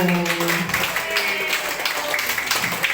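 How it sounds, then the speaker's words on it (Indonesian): A room of mothers and fathers at a community health clinic talk on obesity claps together, steady overlapping applause close by, with a voice briefly speaking at the start. "Saya mau tepuk tangannya dulu nih"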